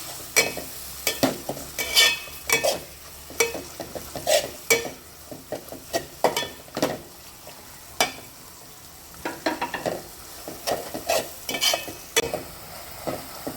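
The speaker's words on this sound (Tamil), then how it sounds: "இப்போ புதினாவும் நல்லா வதங்கிடுச்சு" Mint leaves sauté in a pan for Dindigul-style mutton biryani, a soft sizzle under repeated scraping and clinking stirs of a spoon against the pot, steady and close, with no voices.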